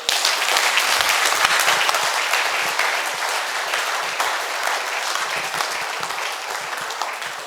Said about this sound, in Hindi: तो तालियां कौन बजाएगा?